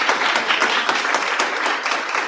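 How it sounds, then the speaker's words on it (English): An audience at a district dialogue event with a state superintendent gives a round of applause, dense close clapping that stays loud and even from start to finish. "So again, let's give him a round of applause for coming out."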